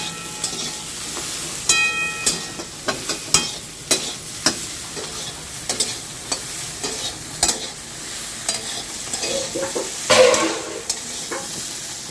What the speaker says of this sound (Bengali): ঢ্যাঁড়সটা ভাজা হয়ে গেছে, এবার দিলাম অল্প একটু নুন।